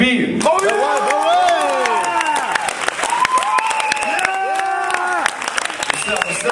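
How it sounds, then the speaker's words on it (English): An audience at a live talent show applauds loudly, with cheering, whoops and whistles rising over steady clapping throughout. "mesdames et messieurs, applaudissez gZB"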